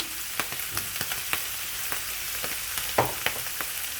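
Onions, mushrooms and garlic frying in a pan, a steady close sizzle with scattered pops and crackles of hot oil, and no talking.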